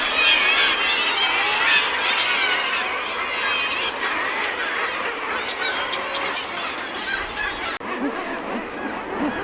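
A dense crowd of seabirds near a lighthouse calls without pause, a loud, constant chorus of overlapping honking and squawking cries heard close by, with no voices.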